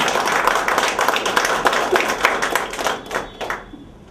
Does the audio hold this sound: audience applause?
yes